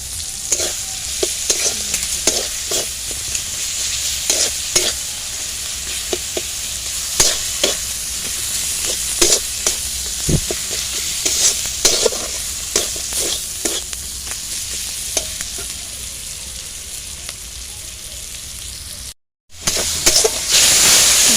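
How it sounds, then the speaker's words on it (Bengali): Masala with turmeric powder sautés in a pan for Bengali ghugni, a steady loud sizzle broken by repeated stirring scrapes and clicks, with one brief drop to silence near the end. "ভালোভাবে মশলাটাকে কষাতে হবে।"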